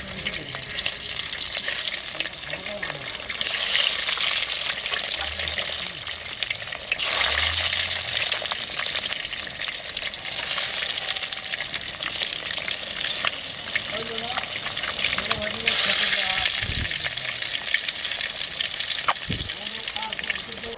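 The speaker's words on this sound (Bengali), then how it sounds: "তেলটা গরম হয়ে গেছে, আমি এখন ডিমটা ভেজে নেবো।" An egg frying in hot oil in a home kitchen, with a steady broadband sizzle throughout, occasional clinks and stirring sounds, and water or sink noise in the background.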